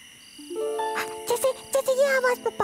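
A voice imitates a cricket, holding a tone and then breaking into a quick series of short, rhythmic chirps.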